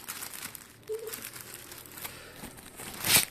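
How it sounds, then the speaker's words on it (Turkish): Plastic crinkles and rustles close up as a zip-lock bag of sandpaper discs is handled and pulled open, ending in a brief sharp tearing burst. "Kitli bir poşeti var. Öyle açıyorum."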